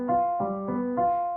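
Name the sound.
dominant seventh chord played with the fifth left out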